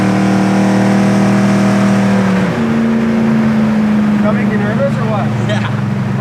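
A 1971 Chevelle SS big block V8 cruising in third gear, a loud steady droning engine note heard from inside the car, pitch dipping briefly around a shift then holding steady.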